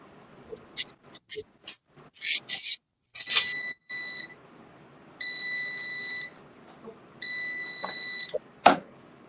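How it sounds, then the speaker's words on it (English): A heat press timer beeps with two sustained electronic tones and a shorter one, each a steady bright pitch, amid quiet handling clicks and rustles nearby. "It has a little timer on it that starts down by itself."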